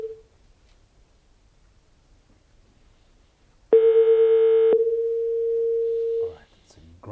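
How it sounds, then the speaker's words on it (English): A telephone call's ring tone heard at a prize draw, first a short buzzy burst and then a long steady tone, loud and close, which stops before a brief voice is heard. "The phone is ringing."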